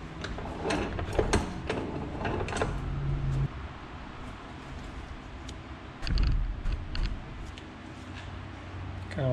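A power steering pump part for a 1967 Mustang is turned by hand while clamped in a bench vise, giving close, busy ratcheting clicks and metallic clatter for a few seconds, then quieter handling and another short burst.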